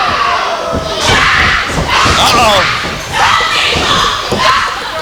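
Crowd at a PCW pro wrestling event cheering and shouting in loud, surging waves, with thuds from the ring and a commentator's voice talking over the noise.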